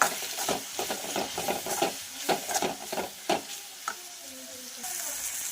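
Turmeric, coriander powder and salt frying in oil as a masala, with rhythmic scraping strokes of a spoon stirring through a low sizzle, gradually settling to a quieter fry near the end.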